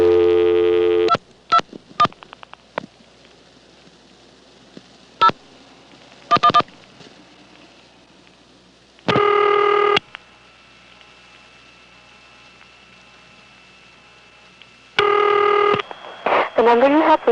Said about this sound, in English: Here's the Triangle Intercept recording, circa